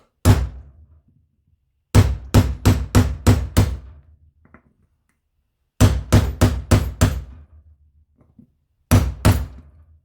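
Sharp metallic hammer blows on a chisel cutting a tractor ignition switch: one strike, a quick run of five, then another five, then two, each ringing briefly with quiet gaps between.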